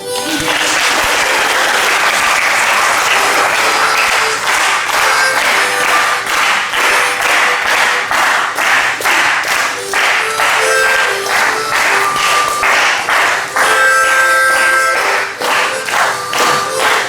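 A church congregation applauds in a steady, dense round of clapping that fills the whole stretch, loud and close, with faint voices mixed in.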